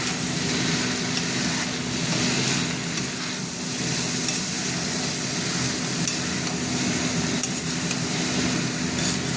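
Chopped tomatoes fry with a little sugar in a pan while being stirred. A continuous close sizzle is broken by soft scraping strokes, with no one speaking.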